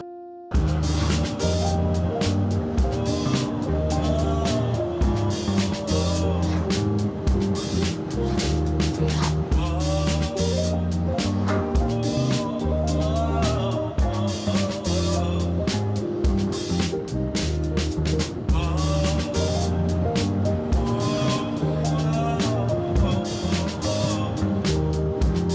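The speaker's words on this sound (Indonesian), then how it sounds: "Macet sekali bro. dari arah yang berlawanan motor juga pada lewat" Heavy traffic jam on a road in Kutoarjo, Indonesia, with cars and motorbikes passing from the opposite direction, a dense continuous rumble of engines and passing vehicles, loud and close, with music-like tonal layers throughout.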